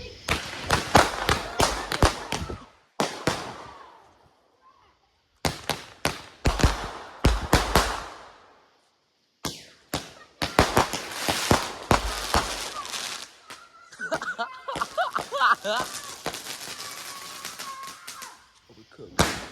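Small Fourth of July fireworks pop and crackle in rapid bursts separated by short pauses, loud and close, with people talking and reacting between the bursts.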